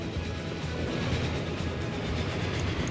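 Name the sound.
train running in the video game Transport Fever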